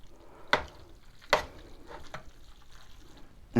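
Utensil stirring linguine with clams, parsley and butter in a pan, gentle sizzle and wet shuffling broken by a few sharp knocks against the pan, close and quiet.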